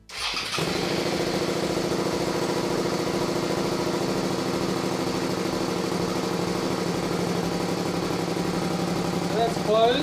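Motorbike fitted with a DIY Varex exhaust valve, closed, fired up with a brief start and then idling steadily and close by with a constant throbbing rumble.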